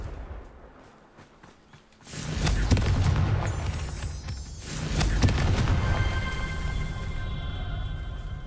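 A Confringo explosive spell in Hogwarts Legacy goes off after a quiet moment as a sudden loud blast, followed by a rumbling crackle and a second swell of booming impact noise.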